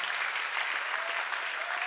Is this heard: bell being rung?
no